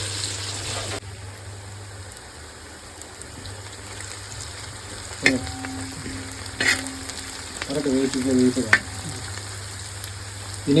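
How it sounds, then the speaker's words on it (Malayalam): Ingredients for beef curry sizzle and fry in a pan, a continuous crackling hiss close by, with occasional scrapes and clinks of a stirring utensil toward the end. "ഇതെല്ലാം ഒന്ന് വഴറ്റി വരട്ടെ അല്ലേ"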